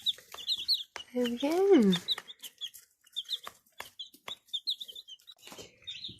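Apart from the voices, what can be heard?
baby chicks in a brooder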